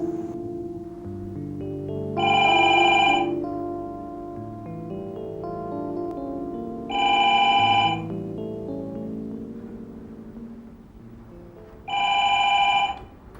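An old-fashioned telephone bell rings three times in loud, evenly spaced bursts about five seconds apart, with background music beneath and no voices.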